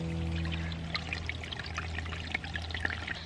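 Water pours and trickles steadily while being filtered on the Appalachian Trail, a continuous close splashing stream with a low steady hum beneath it and no voices.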